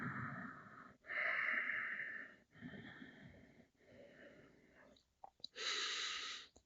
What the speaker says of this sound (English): About 5 more breaths.